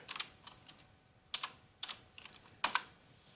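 Keys on a computer keyboard are tapped in sparse, separate clicks and short pairs, close and quiet, with nothing else competing.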